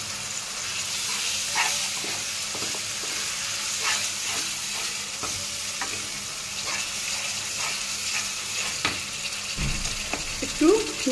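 Ginger, turmeric and salt masala frying in a pan, a steady close sizzle running throughout with scattered small clicks of stirring and a brief low thud near the end.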